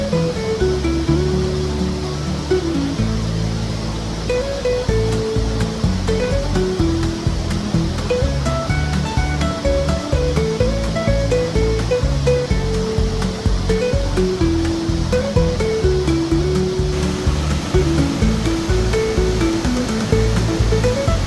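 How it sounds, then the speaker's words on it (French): A mountain waterfall in the Vanoise glacier country pours steadily, its continuous broadband rush loud and even throughout, with no voices over it. "La cascade est vraiment chouette."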